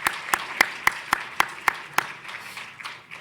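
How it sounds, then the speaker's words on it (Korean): A church congregation claps for an elder and search committee during a Sunday morning service: roughly a dozen distinct, evenly spaced claps, moderately loud in a reverberant hall, thinning and fading toward the end with no voices. "박수로 네 고생하셨습니다 하고 박수 한번 네 부탁드리겠습니다."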